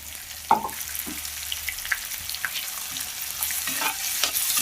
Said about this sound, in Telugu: వంకాయలు కొంచెం బాగా మగ్గాలి, పచ్చిగా ఉంటే బాగుండదు, బాగా ఫ్రై కావాలి